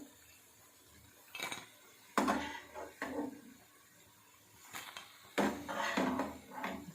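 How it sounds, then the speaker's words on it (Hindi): Freshly fried pumpkin pakoras being tipped into a serving dish, with clinks of metal utensils against cookware and scraping, in irregular bursts and no talking. "चलो अब मैं डिश में डालती हूँ"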